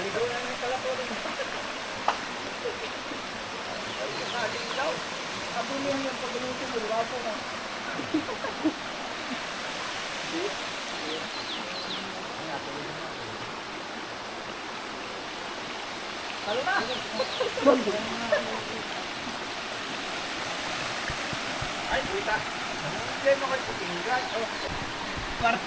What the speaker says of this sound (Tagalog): Yan ho, ang ilog, oh.